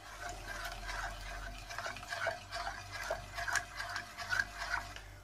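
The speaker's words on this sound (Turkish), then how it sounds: "Şimdi çorbamızı karıştırıp tekrar devam edelim." A spoon stirring potato soup in a pot, with soft repeated scraping and knocking strokes at an uneven rhythm, close by and fairly quiet, no voices.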